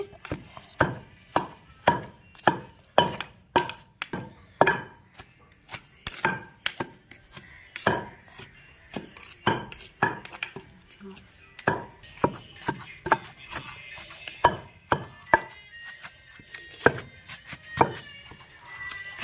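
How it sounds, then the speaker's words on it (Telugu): Steady rhythmic thuds of a pestle pounding drumstick (moringa) leaves with dried red chillies in a mortar, around one strike per second, close and sharp, continuing throughout with brief uneven gaps. "మునగాకు వేసి దంపుతున్నానండి"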